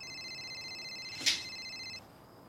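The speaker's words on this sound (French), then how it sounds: "Non mais tu peux pas éteindre ton téléphone 2 minutes, Cozy" A telephone rings with a steady electronic warble that holds for about two seconds, then stops. A brief clatter cuts in midway through the ringing, and no one speaks.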